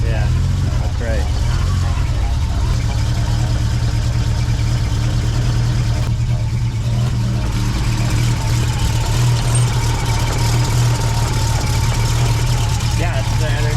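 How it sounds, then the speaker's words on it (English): A BMW E30 M-Tech engine fitted with a header runs at a steady, loud idle with a deep, slightly lumpy rocking rumble, close by, while people talk over it. "motor sounds good, dude. Yeah, you can hear it, it's like rocking."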